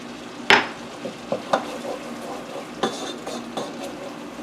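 Minced garlic stirred into simmering Alfredo sauce in a pan, with a soft sizzle under scattered clinks and scrapes of a utensil against the pot, close and fairly quiet.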